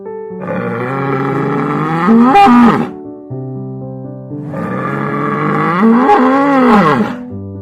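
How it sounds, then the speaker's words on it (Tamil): A bull lowing in two long, loud, close calls, each a deep drawn-out moo that rises into a strained roar-like peak before cutting off, with a brief silence between them. "காளை ஒரு வலிமையான மற்றும் தைரியமான பிராணி."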